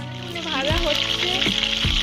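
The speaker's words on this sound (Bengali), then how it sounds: "ভাজা হচ্ছে" Food frying in a large nonstick wok gives a continuous sizzle beneath a nearby voice talking over it.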